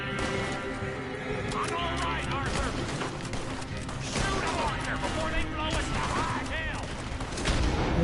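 Console video game gunfire rattles in dense overlapping volleys with booms and horse hoofbeats, loud and continuous, while people talk over it.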